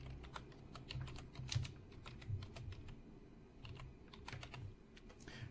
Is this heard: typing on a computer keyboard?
yes